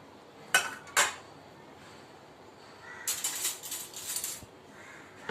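A utensil clinks against a metal bowl while gram flour batter with salt and turmeric is stirred, two sharp taps followed by a run of scraping, clattering mixing strokes, close and without talk.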